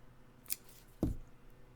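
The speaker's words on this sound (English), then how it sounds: "Cut a little bit of it off." Scissors cutting pre-printed vellum for a card: two short, crisp snips about half a second apart, close and fairly quiet.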